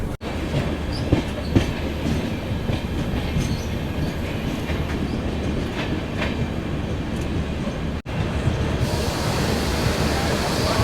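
Agartala Tejas Rajdhani Express pulling out of the station, a steady broadband roll of wheels and carriages with faint clicks, heard continuously from onboard with a brief dropout near the end.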